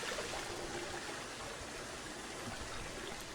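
Waterfall in a Planet Zoo zoo habitat, a steady broadband rush of falling water, even and continuous with no voices.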